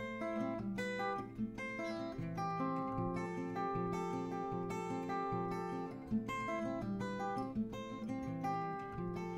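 Acoustic guitar plays the chorus melody at a slightly quicker tempo, plucked notes over a steady low part, close and alone.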